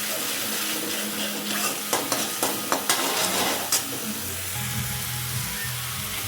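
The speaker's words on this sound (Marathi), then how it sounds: "ही ग्रेव्ही छान शिजू द्यायची आहे." Gravy for paneer tikka masala cooking in a pan, a steady sizzling bubble up close with a few light clinks of a spoon stirring partway through.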